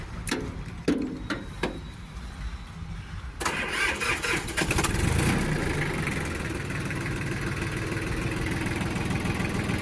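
A Yanmar F24 mini tractor's engine cranks with a few sharp clicks and whirs, then fires and settles into a steady, close, fairly loud idle hum.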